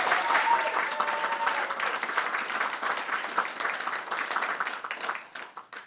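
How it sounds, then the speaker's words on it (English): Sustained applause from an awards ceremony audience fills the whole stretch, a dense wash of clapping that gradually thins and tapers off at the end. "Please applaud them."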